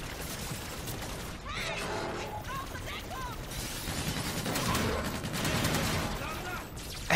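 Sustained gunfire in Call of Duty Infinite Warfare, dense rattling bursts and shots running continuously at moderate level, with in-game chatter and effects mixed underneath.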